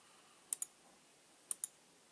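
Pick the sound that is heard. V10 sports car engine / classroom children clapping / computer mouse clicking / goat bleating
computer mouse clicking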